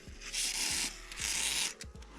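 Two long hissing bursts from a spray can of cleaner onto a Springfield 1911 pistol, each lasting under a second, followed by a few light clicks and handling noises.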